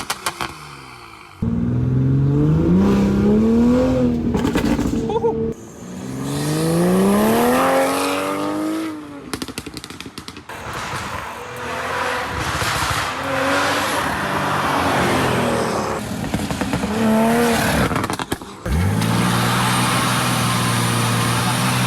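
A car engine revs hard through rising gear pulls, exhaust roaring loudly with pauses between shifts and a brief lull near the end.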